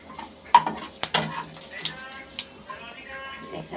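Sesame seeds frying in a pan for a vegetarian kalmi shaak dish, light crackling sizzle with sharp clinks and scrapes of a utensil against the pan, a voice talking over it.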